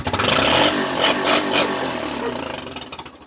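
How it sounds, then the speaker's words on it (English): A loud Honda ATV engine with a near-stock exhaust revs hard, roaring high and then winding down, close by with no talk. "And when you rev it up, it definitely"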